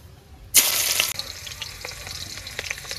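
Chopped onion hits hot oil in a kadai with a sudden loud hiss, then settles into a softer, steady crackle of frying close by.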